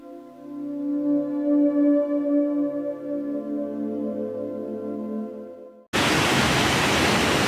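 At a dam on a river at Ware Shoals, South Carolina, a sudden, loud, steady hiss of water pouring over the dam cuts in after several seconds of tonal music.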